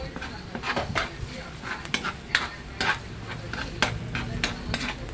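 A utensil scrapes and clinks against a pan while tomato paste is stirred until it melts for garlic crabs. A soft sizzle runs underneath the irregular stirring strokes, all heard up close.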